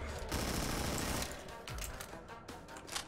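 Rapid gunfire in the Granny horror video game, a quick burst of repeated shots close and loud over about three seconds with no voice.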